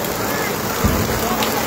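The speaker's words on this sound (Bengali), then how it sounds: "ওই বৃষ্টির মধ্যে আমরা আছি" Rain falls steadily at an outdoor cattle market at Jinjira, a close, dense hiss with a brief low thump partway through.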